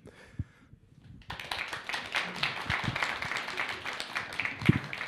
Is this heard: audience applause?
yes